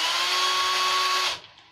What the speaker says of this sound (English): just hit the buzz button with a little bit of pressure put away from the drill